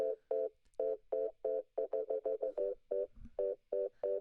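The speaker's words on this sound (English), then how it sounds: "And it's just a Rhodes thing that I played in." A fast Rhodes electric piano loop from a song plays as a quick run of short, evenly pulsing tonal notes, clear and fairly soft, with brief gaps between groups and no voices.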